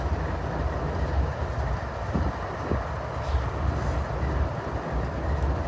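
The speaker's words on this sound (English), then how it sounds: "I hear another train coming, actually." A train rolls along railway tracks at a steady, moderate distance, its low rumble continuous, with a few faint clicks from the wheels.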